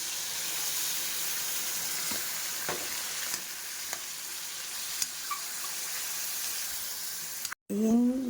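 Liver frying in a non-stick wok gives off a steady sizzling hiss with occasional ticks and stirring clicks for several seconds, then it cuts out briefly and a voice starts at the end.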